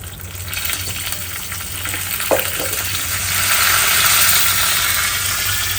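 Pure ghee tempering for a Mangalorean fish curry gives a continuous loud sizzle that swells toward the end, with a brief clink partway through and no voices.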